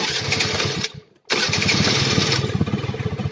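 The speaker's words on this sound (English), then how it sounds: "just start the engine" A Honda SH50 scooter's small engine cranks with a brief silent gap, then catches and runs at a steady, loud putter close by.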